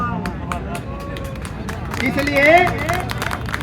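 An audience claps at a speech at a martyrs' memorial, a steady patter of hand claps from a crowd that swells midway, with someone speaking over it and background murmur.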